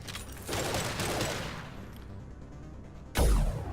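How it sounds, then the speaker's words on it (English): A heavy burst of Mass Effect 2 high-impact gunfire roars loudly for a few seconds, quiets, then a second hard, booming shot lands near the end. "Firing a high-impact shot"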